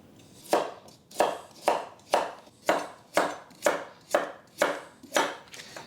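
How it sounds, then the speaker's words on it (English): A kitchen knife slices a carrot on the bias against a cutting board: about ten crisp, evenly spaced chops in a steady rhythm, each a sharp crunch with a short decay, close and clear with no talk. "This carrot is a little fat, so I'm going to cut it lengthwise in half. And then I want to slice on the bias."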